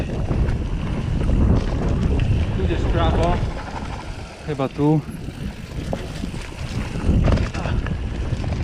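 Steady wind buffeting a microphone with low rumbling gusts during a mountain bike ride, a brief voice speaking partway through.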